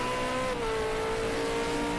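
Race cars lap Bathurst in the racing game Project Cars 2, a continuous loud engine whine with a pitch that dips slightly as the car passes, steady throughout with no talking.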